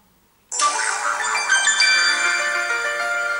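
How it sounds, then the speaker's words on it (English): A Fonerange rugged waterproof phone plays its startup tone when switched on: a bright chiming jingle starts abruptly after a short silence and rings on steadily, close and clear. "we can turn the phone on."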